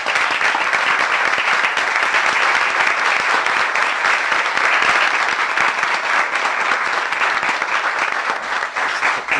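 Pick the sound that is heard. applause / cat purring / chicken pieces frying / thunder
applause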